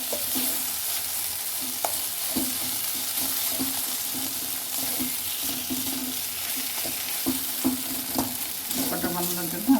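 Spices with coriander powder stirred and frying in a pan while cooking a fish kofta dish, a steady sizzle with repeated scraping of the spoon against the pan throughout, close and moderately loud, with no talking.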